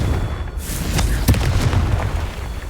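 Explosive blast of the Confringo fire spell in Hogwarts Legacy on Xbox Series S, a loud booming burst with sharp cracks over a dense rumbling bed of game sound.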